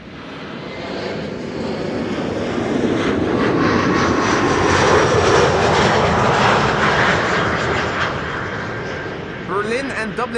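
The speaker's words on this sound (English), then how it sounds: "This is KLM flight 1268, arriving from Copenhagen. It's an Embraer 175" A KLM Embraer 175 jet arriving at Amsterdam Schiphol from Copenhagen, its engine roar building to a broad peak and then tapering off, with a person talking over it.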